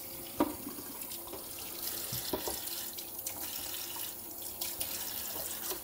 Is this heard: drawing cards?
no